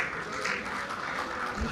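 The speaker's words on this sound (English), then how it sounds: "Can we give him a round of applause?" An audience at a leadership training session breaks into applause, a dense, steady wash of clapping that carries through the whole moment.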